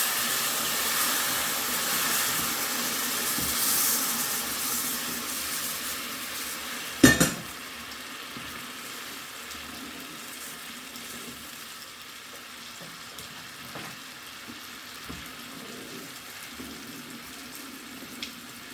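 Sugar syrup poured into hot semolina halwa in a pan, a steady loud sizzling hiss that fades and settles over about eighteen seconds, with one sharp clatter of a utensil partway through.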